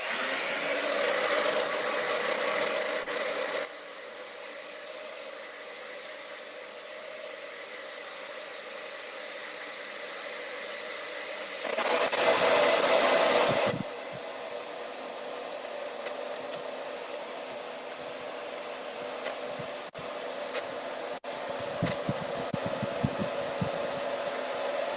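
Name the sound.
hair dryer blowing to dry potato print paint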